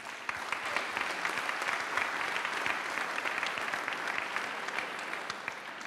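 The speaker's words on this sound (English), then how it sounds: "Let's give everyone one last round of applause," A final round of applause from a morning startup pitch audience, a fairly faint but continuous patter of many hands clapping, even in level from start to finish.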